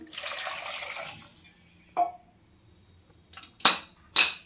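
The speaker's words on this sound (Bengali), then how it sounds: "এবার পরিমাণ মতো লবণ দিয়ে দিচ্ছি একটু জল দিয়ে দিলাম" Water poured from a container into a pressure cooker holding small potatoes, a steady rushing splash for over a second, then a few brief clinks and knocks of the pot nearby.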